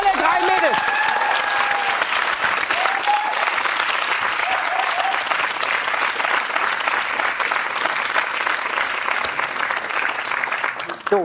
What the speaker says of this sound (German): Großer Applaus für alle drei Mädels